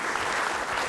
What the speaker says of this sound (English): Let's give Jennifer a big round of applause.